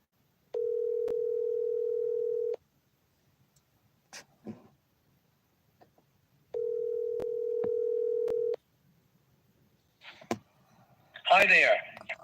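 A phone call rings unanswered: two long, steady ringback tones about two seconds each, separated by a silent gap, with brief clicks, a faint voice and shuffling noises near the end.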